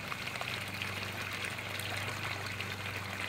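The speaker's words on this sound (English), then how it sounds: "Which honestly doesn't really make that much difference with the loudness of the waterfall" Steady rushing and splashing of a garden pond waterfall falling into the pond, continuous and fairly close, with no voices.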